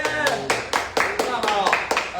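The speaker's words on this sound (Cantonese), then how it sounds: "俾啲掌聲我哋嘅 Gordon Ramsay" Hands clapping for the maker of a homemade birthday cake at a birthday celebration, in regular bursts roughly every quarter second, fairly close, mixed with voices and chatter.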